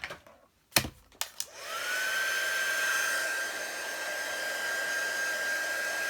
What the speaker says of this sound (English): Give it a quick blast with the heat tool.